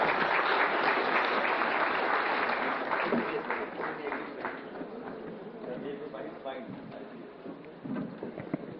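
An audience gives sustained, dense applause at a two-day national stakeholder consultation ceremony, loud at first and easing slightly, with a voice speaking over the clapping.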